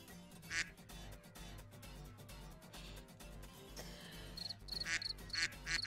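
Ducks quack while chasing and eating crickets, with a few loud, raspy quacks near the start and a quick burst toward the end, all over a busy background hum.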